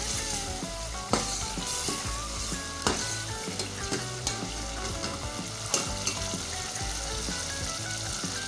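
Masala for aloo gobi sizzles and fries in a pan with a steady, dense crackle, stirred now and then, while music plays loudly over the cooking.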